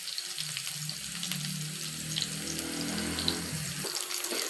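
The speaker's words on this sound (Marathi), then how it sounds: "फिश फ्राय करताना गॅस थोडासा मध्यमच ठेवायचा आहे" Fish fry in a pan over a medium gas flame, giving a steady close sizzle and crackle that swells midway and then eases off, with no talking.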